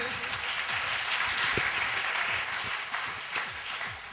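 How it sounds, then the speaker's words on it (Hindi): An audience at a live motivational talk fills the room with dense, sustained applause that carries on evenly throughout, with faint voices underneath. "थैंक यू आपकी बेहतरीन दमदार जोशीली तालियों के लिए।"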